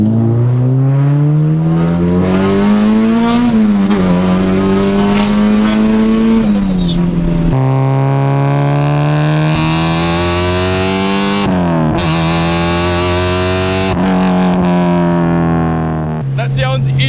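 A Honda Civic with a K-swap engine accelerates hard, revving up through the gears with rising pitch, abrupt drops at each shift and a loud, continuous, raspy engine note heard close up.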